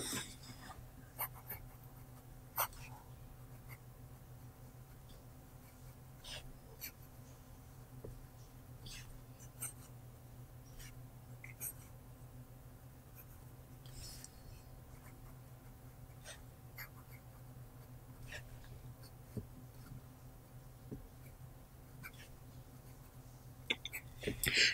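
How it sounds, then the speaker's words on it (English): A fountain pen inked with Australian Sky Blue writes on Clairefontaine paper, producing faint, close scratchy strokes and small taps in an irregular rhythm over a quiet background hum for about twenty-five seconds. "So, quick writing sample."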